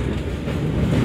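A train rumbles and rattles steadily on the rails as it nears Gambir station in Jakarta, a continuous close low roar with no voices.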